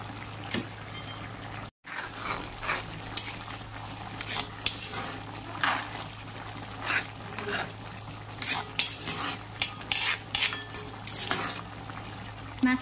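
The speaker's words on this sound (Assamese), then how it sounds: "এয়া ধুনীয়াকৈ উতলিব ধৰিছে।" Pumpkin and fish curry bubbling in a pan while a utensil stirs it, giving a steady soft simmer with repeated scraping and clinking strokes, close by, with no talking.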